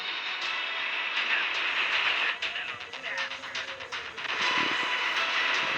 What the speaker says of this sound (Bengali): ট্রেন এদিক দিয়ে যাবে।